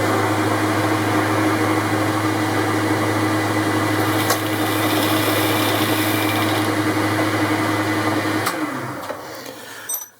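A lathe with a boring bar chamfers the inside of a steel bush, giving a loud steady mechanical hum and whir with a faint tick midway, then the machine winds down and fades near the end.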